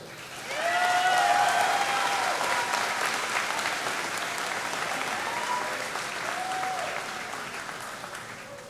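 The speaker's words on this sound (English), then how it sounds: "a much-deserved round of applause to the class of 2017 from Whitney Point High School" A high school graduation audience applauds the class of 2017 at Whitney Point High School, a broad sustained wash of clapping that swells early and stays loud and even, with a few voices calling out within it.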